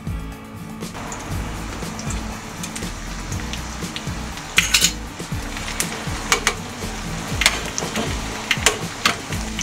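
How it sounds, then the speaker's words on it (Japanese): Garlic sizzles in a generous pour of sesame oil in a pot over medium heat, a steady crackling hiss with scattered sharper pops. "そしたら中火にかけてニンニクを投入します。"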